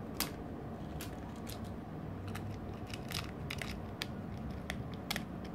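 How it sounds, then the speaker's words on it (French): Plastic keyboard piece being fitted onto a Sagem My X-6 mobile phone, giving a series of sharp, close clicks and snaps scattered irregularly over faint handling rustle, with no talking. "Je mets évidemment le clavier."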